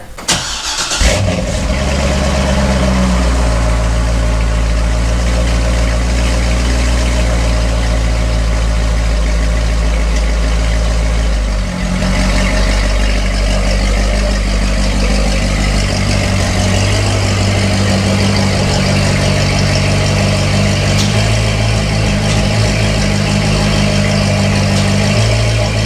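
A Chevrolet Corvette C6 being started, with a quick cranking catch followed by a loud, steady V8 idle rumble that holds throughout with slight shifts in pitch.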